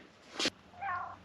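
A cat gives two short meows close by, the first sharp and brief, the second a longer rising-and-falling call, with quiet background between.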